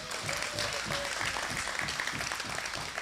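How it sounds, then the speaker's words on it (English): Audience applause for Olympians at a special meeting, a steady wash of many hands clapping that holds evenly throughout, with a faint tone near the start. "I want us to give them a round of applause."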